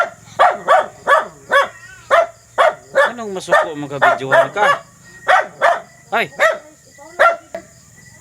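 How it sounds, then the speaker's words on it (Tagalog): A dog barks repeatedly in sharp, evenly spaced bursts, loud and close, with a brief spoken exclamation mixed among the barks. "Nagalit yung aso"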